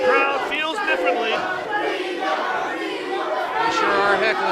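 A wrestling crowd at an indoor independent show chatters and heckles a tag team, a dense continuous roar of mixed voices and shouts at steady loudness.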